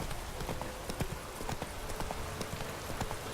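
Roach's hooves in The Witcher 3 beat out a quick, even clip-clop rhythm of sharp, close thuds over a dense background hiss throughout.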